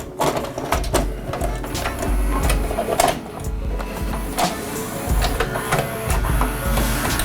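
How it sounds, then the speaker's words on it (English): A VCR's mechanism whirs and clunks as a video tape loads, with repeated mechanical motor runs, clicks and rattles in loud, close bursts. "He's literally just put the video in."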